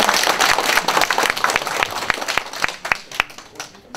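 A crowd at a Korean citizens' camp launch ceremony claps loudly, dense applause with several sharp individual claps standing out, tapering off toward the end.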